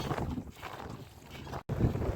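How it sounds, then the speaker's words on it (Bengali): Strong wind buffets the microphone in a continuous rough roar under a heavily clouded sky during a Kalbaishakhi storm in the Sundarbans, with a brief cut near the end. "আকাশে প্রচণ্ড মেঘ, প্রচুর হাওয়াও হচ্ছে।"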